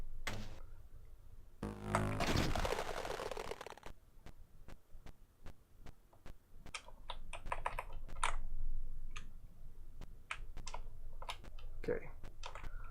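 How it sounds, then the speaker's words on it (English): Typing on a computer keyboard: a burst of rapid clatter followed by a string of separate crisp key clicks at an irregular pace, close and fairly faint. "Listen to my keyboard."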